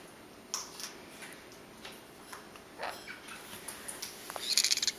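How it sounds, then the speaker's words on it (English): A baby Jenday conure makes soft, light tweets against a quiet hiss, ending in a brief cluster of faint, high chirps. "They make their tweet noise, but they do it real, real light."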